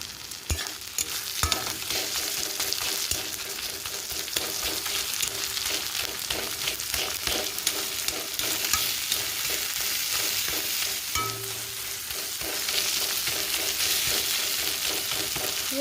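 Fish and brinjal fry and get stirred in a pan, with a loud, continuous sizzle and repeated scraping strokes of a spoon running throughout.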